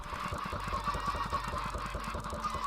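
Many baby chickens in the video game Minecraft peep in quick repeated chirps over a steady low hum, busy and close.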